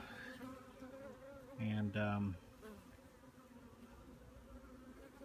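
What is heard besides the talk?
honey bees buzzing in an opened Warre hive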